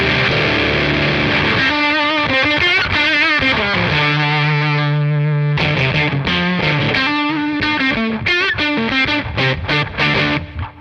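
Electric guitar through a Catalinbread Carbide distortion pedal, played as heavy, saturated metal riffs with sustained chords and choppy palm-muted bursts, loud and continuous with no talking.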